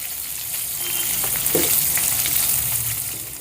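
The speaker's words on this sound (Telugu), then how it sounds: "ఈ ఉల్లిపాయల్ని కూడా మెత్తబడేంత వరకు వేపుకుందాం" Long-sliced onion, one large onion, frying in oil in a pan for tomato-onion chutney, a steady close sizzle and crackle with a few soft stirring knocks, no voices.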